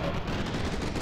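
Gunfire in the first-person shooter F.E.A.R. 2: Project Origin: a brief, dense burst of loud rattling shots filling a single second with heavy low rumble.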